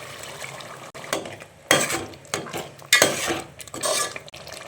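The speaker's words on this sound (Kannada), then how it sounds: "ಈಗ ಮತ್ತೆ ಪುದೀನೂ ಕೊತ್ತಂಬರಿ ಸೊಪ್ಪು ಪೇಸ್ಟ್ ಮಾಡ್ಕೊಂಡಿರೋದು ಹಾಕ್ಕೊಳ್ತಾ ಇದ್ದೀನಿ" Mint and coriander paste hits hot oil for chicken biryani, bringing bursts of loud sizzling between spoon stirs and clinks against the pot. The sound is close, with no talking.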